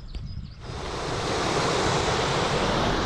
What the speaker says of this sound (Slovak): Tou zaujímavosťou sú takéto kamenné prahy na miestnej rieke, ktorá tu tečie popri ceste.